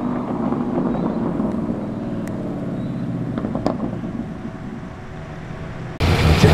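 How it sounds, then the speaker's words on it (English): A V8 street car idles with a low, rumbling burble as it exits a car show in Sydney, steady and fairly close, with a louder burst of revving at the end. "Nice burble of the V8."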